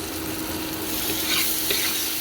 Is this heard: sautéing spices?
yes